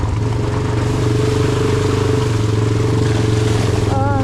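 A Honda Recon 250 ATV rides steadily in third gear around a barn, its engine a continuous close drone with a steady low hum that holds evenly throughout, with no talk.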